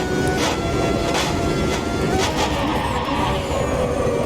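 An Automobilista 2 race car at Goiania in a racing game, braking hard and late into a corner: a loud, continuous engine roar with rhythmic pulses of downshifting and a faint tyre scrub, with no talking.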